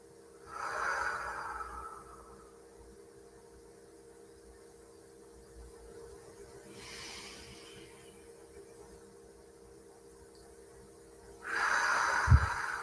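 Three slow, deep cleansing breaths during a guided morning energy practice, soft breathy whooshes spaced several seconds apart, each a gentle inhale-exhale, faint and close with quiet room tone between them and no talking.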